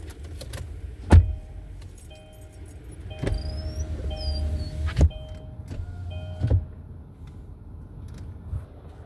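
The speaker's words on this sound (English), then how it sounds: "let me turn this car on." A car is switched on from inside the cabin: a few sharp clicks and key jangles punctuate a low, steady engine hum, with an electronic chime sounding partway through.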